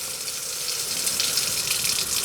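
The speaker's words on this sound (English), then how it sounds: "start off by running hot water into your garbage disposal" Hot water runs from a kitchen tap into a garbage disposal, a steady hissing, splashing stream heard close and alone for a couple of seconds.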